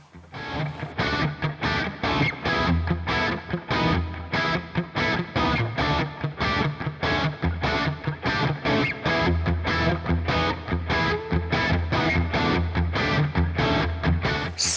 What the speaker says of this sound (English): Sounds and tones that you can get out of this guitar, it is a very, very versatile guitar.